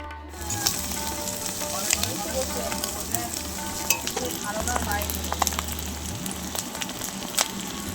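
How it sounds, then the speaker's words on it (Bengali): Steady sizzling of eggs frying one by one in hot oil with onion and chili, close and continuous, with occasional crackles and pops over a low kitchen hum. "এক এক করে ডিমটা ভেজে নিচ্ছি"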